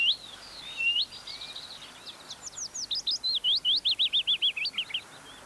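Willow warbler calling in a British garden, a series of thin rising whistled notes that build into a rapid, evenly spaced run of bright chirps, fairly close and alone against quiet background hiss.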